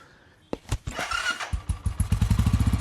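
A motorcycle engine starts with a few sputtering coughs, then settles into a steady, rapid idle thumping close by, with no one talking.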